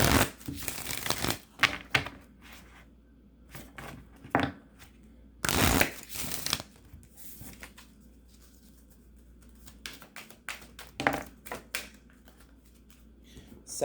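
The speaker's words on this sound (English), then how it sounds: "Let me shuffle them another way." Tarot cards shuffled by hand in a new way, close papery riffles and quick slaps in irregular bursts with quieter pauses between, no talking.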